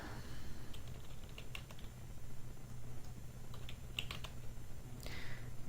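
Fingers tap on a computer keyboard in quick, uneven bursts of close, crisp clicks over a low steady hum, filling in site details during a Joomla installation.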